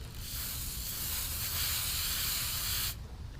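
Continuous hissing spray of glaze being misted onto a pottery piece, steady and close for about three seconds before cutting off abruptly.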